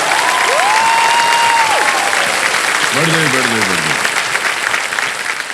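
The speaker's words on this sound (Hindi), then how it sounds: "देखा आपने कितनी ताली बजी है आपके लिए" Studio audience on a game show set applauding loudly and continuously throughout, dense sustained clapping with a few cheers, while someone speaks over it and musical tones sweep through.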